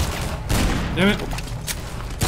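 Pistol gunfire in Half-Life 2 MMod: several sharp, loud shots in quick succession over dense in-game combat noise.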